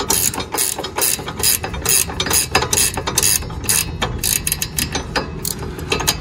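Close-up rapid clicking of a ratchet as a nut is run down on an AVO adjustable stabilizer link on a Subaru WRX STI VAB, with repeated short bursts of sharp metallic ticks and no talking.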